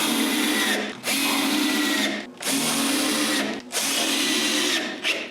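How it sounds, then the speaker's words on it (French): A power drill bores screw holes into a pine cabinet in several bursts of steady whirring, each a second or so long and separated by short pauses, loud and close with no voices. "je perce les trous pour les vis de la tablette centrale et je les visse"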